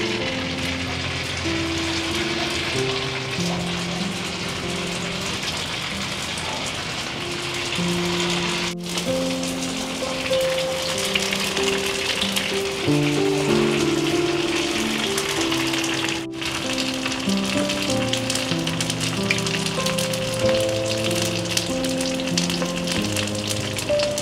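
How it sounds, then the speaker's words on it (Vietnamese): Filled wonton pouches fry in hot oil, giving a steady crackling sizzle that lasts throughout, heard beneath continuous background music. "Dầu nó nóng á, em xem cho túi vào để chiên luôn."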